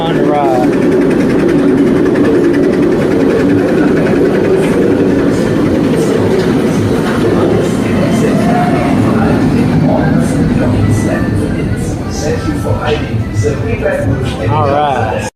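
A roller coaster roars overhead at Busch Gardens in Virginia, heard from beneath the drop as a loud continuous rumbling rush, with a person talking through it.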